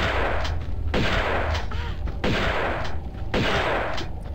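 Gunfire in the Tomb Raider video game: three loud, sharp shots about a second apart, each ringing out over a steady game background with no talking.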